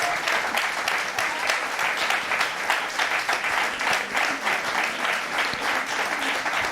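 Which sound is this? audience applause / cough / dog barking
audience applause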